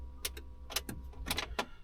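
Sharp, irregular clicks from underneath a Land Rover that won't start, about half a dozen distinct ticks over a couple of seconds with a faint steady hum behind them, no voices.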